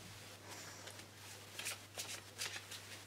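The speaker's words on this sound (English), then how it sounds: "Look, you can watch me shuffle if you really want." Pokémon trading cards shuffled by hand in quick, crisp riffling bursts that grow louder toward the end, close but quiet, with a low hum underneath.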